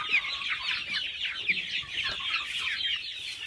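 Chickens on a chicken farm cluck continuously, a busy flock chattering up close with no voices over it.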